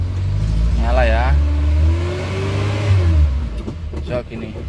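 A car engine runs and revs up from a low rumble while being maneuvered in reverse in a tight spot, with a person speaking over the engine throughout.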